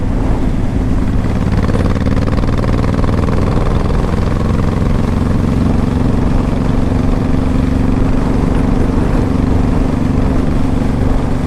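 Close and loud, the V4 engine of a 2005 Honda Shadow Saber 1100 motorcycle holds a constant deep rumble at a steady pace throughout, with no talking.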